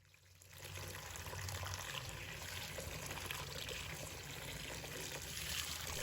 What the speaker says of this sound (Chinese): 倒入温水